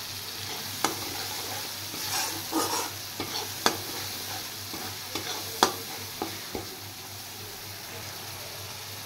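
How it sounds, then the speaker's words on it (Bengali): A ground spice mix of garam masala, fennel, turmeric and chili powders frying in a pan, giving a soft continuous sizzle with intermittent spatula scrapes and taps as it is stirred, fairly quiet and without talk. "এবার এটা আমি একটু ফ্রাই করে নেব।"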